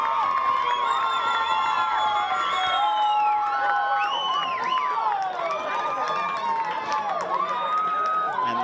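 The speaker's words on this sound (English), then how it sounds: "Listen to that crowd." A large crowd cheers and shouts continuously at a junior football grand final, with excited yells and children's voices rising over a loud, steady roar throughout.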